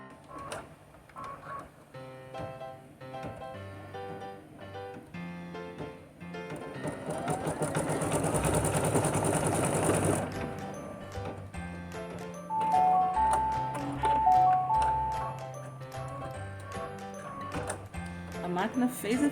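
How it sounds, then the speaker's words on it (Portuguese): An embroidery machine stitches a tack-down for an in-the-hoop Easter basket handle, producing fast mechanical ticking and whirring that rises into a denser buzzing burst mid-way, with tonal hums and clicks around it and no talking. "E a máquina vai fazer a fixação"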